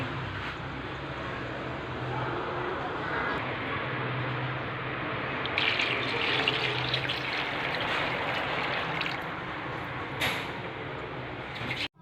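Running tap water splashing steadily while seashells are rinsed, with occasional clinks and rattles partway through.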